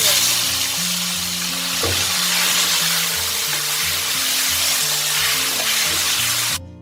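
Liver sizzles and fries steadily in a hot pan for garlic-pepper stir-fried liver, a dense close hiss throughout with low voices or background tones underneath, cutting off abruptly at the end.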